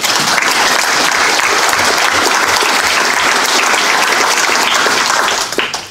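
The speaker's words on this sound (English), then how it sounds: "I suggest that we give our warm-hearted support and applause to these two leaders" Loud, close applause from a political conference audience, dense continuous clapping that holds steady for several seconds before tapering off at the very end.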